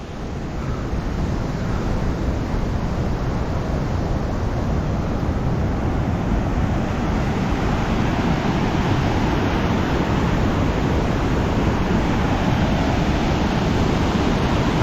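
Steady, loud rush of a turbulent Himalayan river, a continuous broadband roar with no pauses, close by and unbroken throughout.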